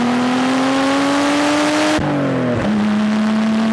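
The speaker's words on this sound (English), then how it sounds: "I put the mic near the exhaust while driving the 240, and it sounded pretty rad" Loud, close exhaust note of a Nissan 240SX with a slightly blown exhaust, recorded while driving, holding a steady drone, briefly dropping as the engine revs down around a gear change, then resuming.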